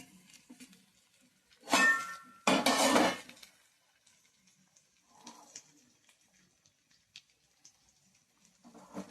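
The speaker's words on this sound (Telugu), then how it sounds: "తిప్పుకుందామండి వంకాయ నగలకుండా" A spatula scrapes and clanks twice against a pan while eggplant fry is stirred, two loud bursts close together, then quiet with faint scattered taps and clinks.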